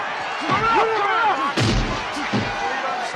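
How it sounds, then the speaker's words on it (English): Exaggerated movie punch effects from a Rocky III boxing match: booming, explosion-like thuds land one after another amid whooshing swings and crowd noise, loud and close. "complete with ridiculous whoosh noises and punches that sound like explosions"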